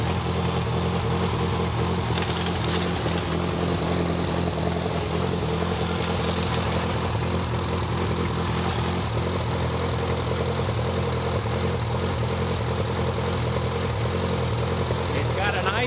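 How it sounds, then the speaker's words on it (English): A 1945 Waukesha ICK engine serving as an auxiliary power unit runs steadily with an even, mid-pitched mechanical drone and throb, continuous and moderately loud for the whole stretch. "It's an excellent running engine."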